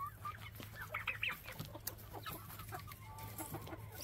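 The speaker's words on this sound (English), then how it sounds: "Here's a frizzle and a silky." Frizzle and silkie chickens cluck in a backyard coop, with soft close clucks and chirps over a steady low hum and rustling, a few brighter peaks in the first seconds.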